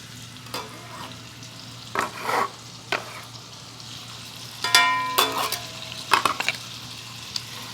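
Chopped onion and garlic frying in bacon drippings, with a low steady sizzle under a series of scraping stirs and utensil clinks against the pan, some bursts sharper and brighter than others, and no talking.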